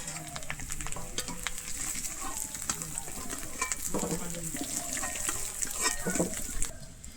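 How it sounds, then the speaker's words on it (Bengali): Steady crackling sizzle of small new potatoes frying in hot oil, with occasional stirring clinks and scrapes, continuous and fairly close. "আমি আলুটা কিন্তু একটু লাল করেই ভেজে নেবো"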